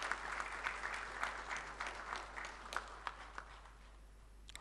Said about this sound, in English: Shall we give him a round of applause, please?